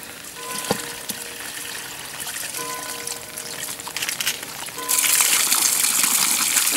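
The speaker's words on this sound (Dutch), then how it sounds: "Nou, daar komt het water." Water begins flowing, then surges into a loud, steady rushing gush that fills the space, close by and continuous to the end.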